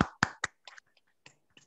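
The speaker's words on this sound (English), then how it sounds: "Please clap for Camelia." Participants in an online business English meeting clap for a presenter: a few sharp, separate claps close to a microphone, the first three strong and quick, followed by scattered fainter ones over under two seconds.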